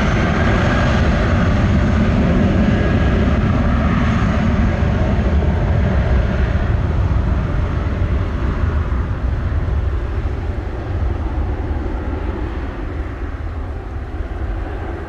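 Airliner taking off at Montego Bay's Sangster International Airport in Jamaica, a loud, continuous jet roar close by that fills the whole stretch and slowly fades as the aircraft climbs away.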